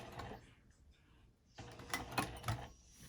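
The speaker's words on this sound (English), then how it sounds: "that's a sound that your needle is trying to deflect" Quiet mechanical clicking and thumping of a sewing machine stitching a zipper pouch, with uneven knocks as the too-small needle deflects and strains, growing busier toward the end.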